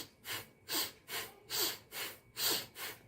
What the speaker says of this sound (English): Then the next exercise is sniffles.